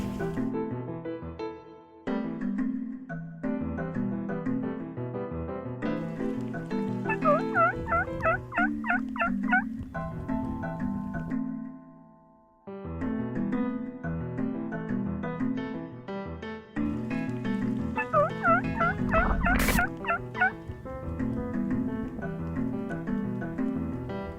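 Wild turkey gobblers gobble in the open, several rattling bursts spread across a long stretch with a pause in the middle, fairly clear and unobstructed.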